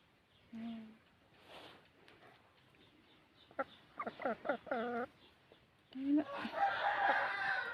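A patterned fighting cock crows in a few bursts, with shorter clucks and calls from other fowl nearby, the last crow loud and close; faint voices murmur early on.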